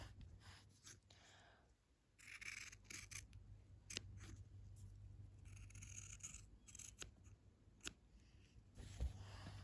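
Scissors cut quilt fabric for English paper piecing, giving quiet, close snips and slides of the blades in an uneven rhythm, over a faint low hum.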